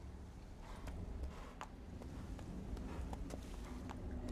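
Horse hooves walking in The Witcher 3 video game, a faint, steady clip-clop of footfalls over a soft ambient background, with no talking.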